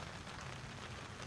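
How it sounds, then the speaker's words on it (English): Steady rain falls outdoors during an open-air rally in Philadelphia, a continuous soft patter on surfaces with no distinct drops standing out, faint and even throughout. "I know it's raining"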